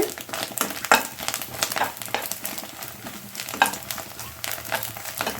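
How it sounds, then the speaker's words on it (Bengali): An egg fries in a pan with a continuous crackling sizzle, broken by occasional sharper spatters and stirring scrapes, close and moderately loud, with no talking. "আমার ডিমটা দেখেন কত সুন্দরভাবে ভাজা হয়ে গিয়েছে"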